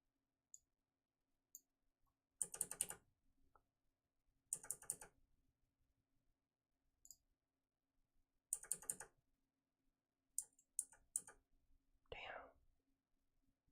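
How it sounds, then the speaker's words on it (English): A very loud computer keyboard being typed on in a streaming setup: short, clattering flurries of keystrokes come in a few separate bursts with quiet gaps between them, close and dry. "I have the loudest keyboard in the world."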